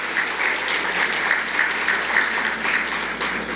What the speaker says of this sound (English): Let's give all of our guests a round of applause